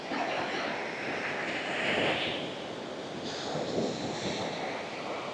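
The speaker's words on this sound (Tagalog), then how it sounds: "Grabe, ang lalaki ng alon." Big ocean waves breaking on a beach at Phu Quoc island, Vietnam, a steady broad wash of surf with swelling surges and some wind noise.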